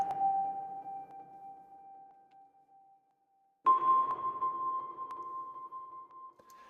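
A soft sustained piano tone fades out, then after a brief silence a brighter, plucky clave synth note enters layered over the mellow piano on the same notes, ringing and slowly decaying.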